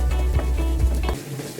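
Spice powders for an egg roast sautéing in a pan: a soft sizzle with rhythmic scraping stirs over a low steady hum that cuts out partway through, leaving the sizzle alone.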